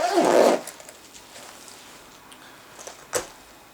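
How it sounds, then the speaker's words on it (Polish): Zipper on a Fox FX Stiff Rig fishing wallet with strong double zips, one loud close pull at the start followed by faint fiddling and a short sharp zip near the end. "mocne podwójne zamki"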